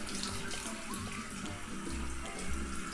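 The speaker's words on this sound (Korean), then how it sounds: "물이 직수 방향, 차가운 물 방향에서도 이렇게 쫄쫄쫄 나오고 온수 방향에서도 이렇게 쫄쫄쫄 나오는 상황입니다." A weak, thin trickle of water runs from a household faucet on both the cold and hot settings, a steady splashing flow close by, alone with no voices.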